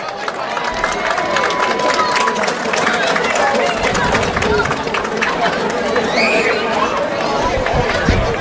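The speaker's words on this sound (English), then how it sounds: "a round of applause" A crowd at a high school parents' night at Harding Stadium applauds the athletes, trainers and cheerleaders with sustained clapping and cheering mixed with chatter, loud and continuous from start to finish.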